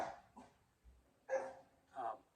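A dog lets out a few short barks in separate bursts with quiet pauses between them, faint and somewhat distant.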